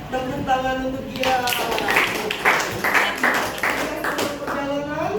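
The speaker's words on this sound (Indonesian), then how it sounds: "Tepuk tangan untuk dia." Students in a classroom break into a short round of clapping for a classmate, the scattered hand claps swelling midway while voices talk over them.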